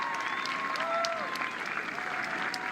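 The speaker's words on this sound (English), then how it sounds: "with a nice applause for the BYU senior goalie" A stadium crowd at a men's college soccer match applauds steadily for the departing senior goalkeeper, a dense, even clapping that holds at moderate distance throughout, with a few faint whistles over it.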